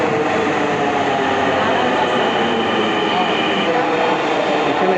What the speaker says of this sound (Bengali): যাওয়ার জন্য সেই ট্রেনটি কিন্তু চলে আসছে